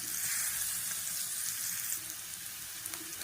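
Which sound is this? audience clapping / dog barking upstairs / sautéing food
sautéing food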